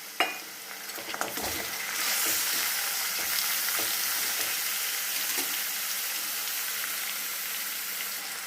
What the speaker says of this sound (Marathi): नंतर 1 टोमॅटो बारीक चिरलेला घालून छान परतून घेऊ